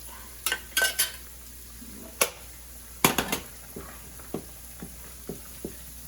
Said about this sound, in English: I'm going to go ahead and add the very last of my broth